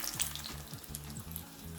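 Thin flatbreads fry in a small amount of oil in a pan, giving a soft, continuous sizzle that stays faint and even throughout.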